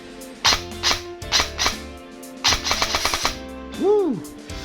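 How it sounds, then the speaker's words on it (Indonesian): An airsoft AEG rifle, an F4 CQB conversion set to binary trigger mode, fires in quick clusters of close, sharp snapping shots, with a rapid burst near the middle and a squeaky whine at the end. "Ketika kita tarik, dia menembak. Ketika kita lepas, dia menembak juga."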